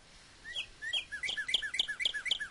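A Minecraft bird chirps in a rapid series of bright, rising tweets, repeating about a dozen times in quick succession, fairly clear against a quiet background.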